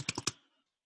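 Three quick, crisp clicks in a row from a computer mouse, close and fairly quiet, then silence.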